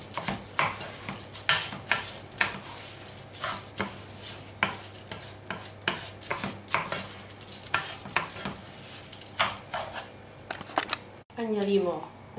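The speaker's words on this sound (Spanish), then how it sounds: "Movemos bien" Rice being stirred in a frying pan for Valencian baked rice, with tomato and paprika added off the heat, producing repeated scraping and shuffling strokes, with a voice briefly at the end.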